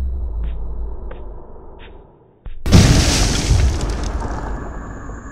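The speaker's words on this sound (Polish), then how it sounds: "Wow, wybuch. Eksplozje. To jest wybuch." A few faint clicks and a low hum, a moment of near silence, then a loud sudden explosion followed by a long roaring, crackling wash and a steady hiss.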